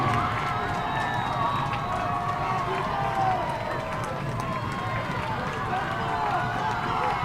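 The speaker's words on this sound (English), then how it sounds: "Notre Dame fans making some noise" A home crowd of Notre Dame fans roars steadily at a high school homecoming football game, a dense, continuous wash of cheering and shouting that holds level throughout.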